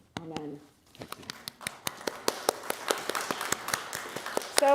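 Scattered hand claps build into light applause from a small congregation at a Shabbat evening service, starting sparse and thickening toward the end, with a voice briefly heard at the start.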